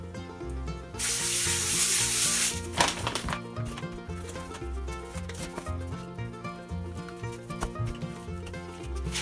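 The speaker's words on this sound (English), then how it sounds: "We are going to flour the cutting board and then put plastic wrap over it and roll it out" A rolling pin pushes gluten-free pasta dough across a floured cutting board covered in plastic wrap, giving a loud, steady rubbing swish for about two seconds over continuous background music, then fading back to the music.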